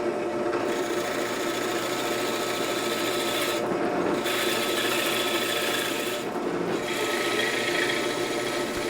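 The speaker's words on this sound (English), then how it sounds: "There's the third hole for the other guide rod being bored." A drill press bores a guide-rod hole through a wooden workbench block clamped to its table while a workbench vise is mounted, a steady loud grinding whir with two brief dips as the bit eases.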